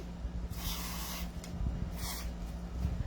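Black spray paint hisses from an aerosol can onto the piston of a CZ Shadow 2 pistol in short, quiet bursts against a low steady hum.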